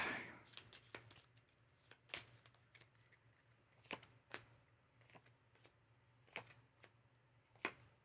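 Board game cards are shuffled by hand, a faint, irregular series of soft riffling clicks and snaps over a low background hum, fairly quiet and close.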